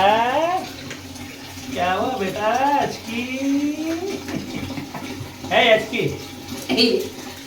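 Water is poured and splashed while five puppies are bathed, rising in bursts through the clip as people talk over it.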